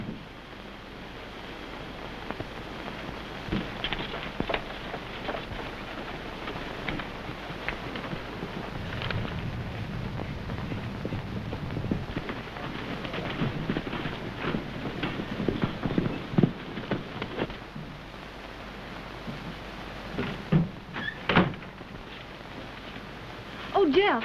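Horse hooves clip-clopping at a steady pace over a windy outdoor background, with people talking at times, in a 1932 Western film.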